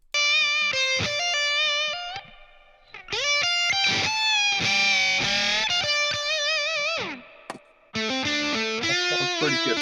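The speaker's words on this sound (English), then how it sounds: "Can you add some reverb onto the amp?" Electric guitar played through an amp with reverb added, distorted sustained notes and chords in phrases separated by short pauses, with the reverb tails ringing out clearly and no voices over it.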